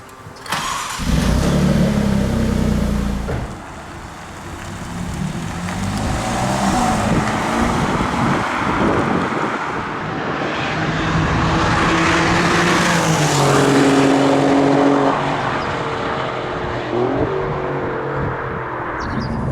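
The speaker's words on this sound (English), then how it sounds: "It's time to take the car out for a little whirl at Silverstone." A powerful rear-wheel-drive car pulls out onto the Silverstone circuit on a greasy day, its engine loud and close, revving and rising in pitch through several gear changes with no talk over it.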